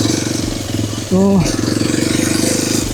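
A Hero XPulse 210 motorcycle engine running while being ridden gives a close, steady, rhythmic thrum throughout, with a brief voice speaking over it partway through.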